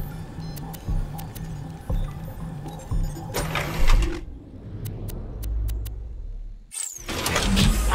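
A machine grinds items in Borderlands: The Pre-Sequel, with a repeating mechanical whir and clunks, then bright metallic clanks and a loud rumbling churn near the end, set against game background ambience.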